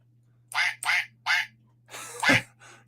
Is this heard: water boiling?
no